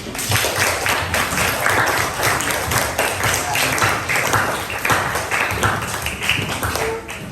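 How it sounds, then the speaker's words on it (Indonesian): Students applaud in a classroom after a group presents its work, giving sustained lively clapping with distinct individual claps and a few thumps, and faint voices mixed in. "Kasih tepuk tangan dulu."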